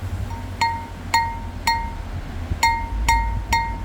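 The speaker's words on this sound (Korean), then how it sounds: "종소리가 들립니다. 이렇게 세게 쳤는데도 안 깨지는 거 보면은 참 신기하죠." A twice-fired ceramic flower pot is struck hard five times, each hit giving a bright, clear bell-like ring that decays quickly, with hits spaced in an uneven rhythm and standing out above a low background hum.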